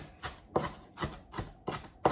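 Knife chopping fresh cilantro on a cutting board, six crisp evenly spaced chops at a steady rhythm, close and clear with no talking.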